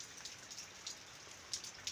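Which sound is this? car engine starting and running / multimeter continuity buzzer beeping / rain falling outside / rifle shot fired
rain falling outside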